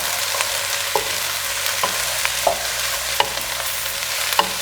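Soya beans frying in a pan while being stirred, a steady soft sizzle broken by sharp scraping clicks of the spoon against the pan roughly every second, close and alone.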